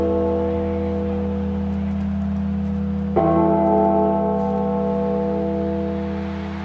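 A deep, ringing bell tolls during the Hell's Bells moment in the College Football 25 video game, a sustained tonal hum with one fresh strike about halfway through that slowly fades away.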